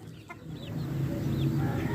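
A live chicken clucks softly nearby, a few low murmuring calls over a faint background hum, with no talking.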